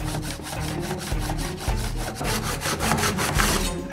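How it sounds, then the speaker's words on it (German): A hand saw cuts through thick beech wood in steady, rhythmic back-and-forth strokes, rasping loudly and close up. "Und da sägen wir jetzt diese Front hier weg"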